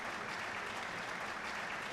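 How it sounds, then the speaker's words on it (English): A concert crowd in Trails of Cold Steel applauds an operetta, a thick, even roar of clapping that holds at full strength throughout, close and unbroken, with no speech over it. "Lots of applause."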